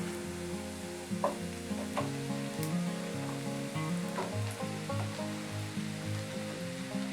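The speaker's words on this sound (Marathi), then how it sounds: "आता यामध्ये मी मशरूम्स घालत आहे" Mushrooms sauté with onions in a pan, giving a continuous close sizzle with occasional soft stirring scrapes and clicks against the pan, with no voices.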